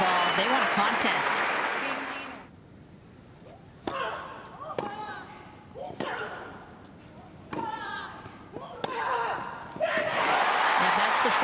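Wimbledon spectators burst into loud applause, then quiet for a stretch of sharp tennis ball strikes, with more clapping swelling again at the end.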